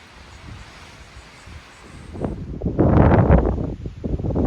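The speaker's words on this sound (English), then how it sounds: "It is very windy up here." Gusty wind on a mountain summit buffets the microphone, building from a low rumble into loud, roaring blasts in the second half.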